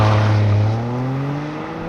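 A 2023 Toyota GR Corolla launches hard from a standstill, its engine note loud and close, climbing steadily in pitch as the car accelerates away.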